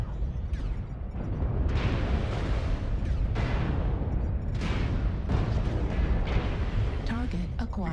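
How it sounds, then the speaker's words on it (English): Artillery barrage in MechWarrior Online, a string of heavy booming blasts, five or six strong impacts over a low rumbling bed, with a person talking amid them. "The enemy is targeting us with satellites and artillery."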